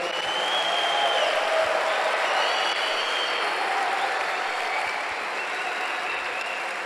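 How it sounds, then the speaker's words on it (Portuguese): Church congregation at a Sunday service applauding: steady, dense applause from a large indoor crowd, holding at an even level throughout with no pauses. "Dê um aplauso ao Senhor."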